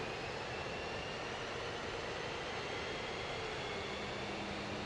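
A jet fuel starter whines on an F-15E Strike Eagle during a cold start in the DCS flight simulator. A thin, high whine sits over a loud, steady roar of engine noise, with no talk.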